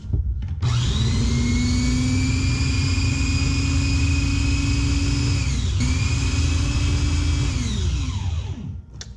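Food processor blending a parsley green sauce with onions and garlic until smooth: a loud, steady motor whir running continuously for several seconds, then spinning down to a stop.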